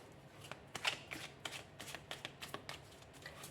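A deck of Green Witch tarot cards being shuffled by hand, giving soft, quick riffling and slapping bursts in an uneven rhythm, close and quiet.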